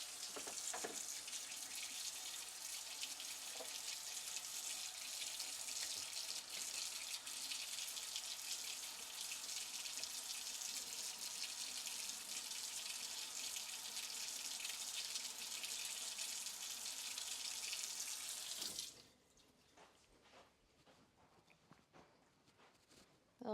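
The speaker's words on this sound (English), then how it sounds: "I gotta rinse my brush." Water runs steadily from a tap for about nineteen seconds to rinse a paintbrush in the video game GTA 5, a constant hiss that then cuts off, leaving faint quiet sounds.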